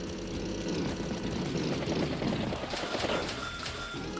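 Propeller aircraft engines drone steadily in an Advance Wars by Web match as a fighter plane moves across the map, a continuous loud hum with brief game effects layered near the end.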